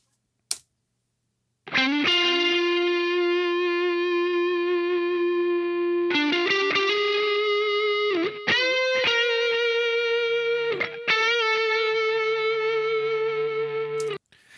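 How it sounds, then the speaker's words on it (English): Sustained electric lead guitar notes with delay, several long held tones and bends separated by brief gaps, loud and alone. "finally, we're going to dive on to the lead guitar"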